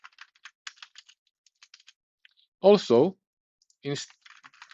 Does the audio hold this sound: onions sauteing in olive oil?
no